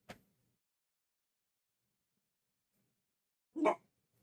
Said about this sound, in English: Do you hear those dogs? They're crazy.